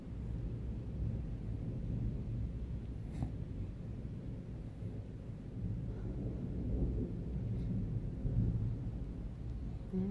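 Deep, continuous rumbling like distant thunder rolling on for several seconds, low and steady with no clear sharp crack.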